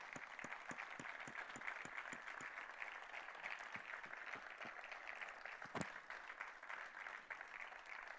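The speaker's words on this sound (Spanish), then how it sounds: "Un aplauso para él." Faint applause rises from a crowd at an arts awards ceremony honoring costume designer Francis Montesinos, with scattered distinct claps over a soft, distant wash of clapping.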